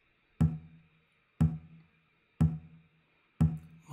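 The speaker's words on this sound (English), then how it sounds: "So we're really just accenting beats two and four," A simple percussion part hitting on beats two and four, heard as four loud, evenly spaced thumps about a second apart, each decaying quickly into silence.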